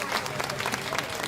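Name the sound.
audience applauding senior showmen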